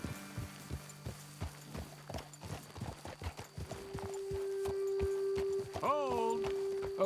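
Horses in the video game Red Dead Redemption 2 clip-clop along at a walking pace in uneven hoof beats, then one lets out a loud whinny near the end over a steady background drone, with a voice speaking.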